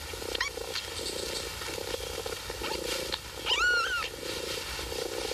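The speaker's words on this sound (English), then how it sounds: "has produced a litter of 5 kittens in a cardboard box" Newborn kittens less than a day old in a cardboard box give a few thin, high mewing cries, one clearer and louder near the middle, over a steady low background hum.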